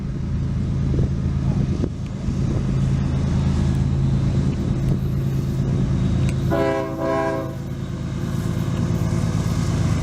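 Northbound freight train Q604 of the Vitus subdivision at Lakeland Junction, Florida, rumbles past steadily up close, with one clear horn blast sounding midway.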